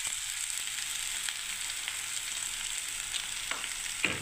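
Chowmein noodles sizzle in a hot pan with vegetables, peanuts and chowmein masala, giving a steady frying hiss with light stirring scrapes near the end.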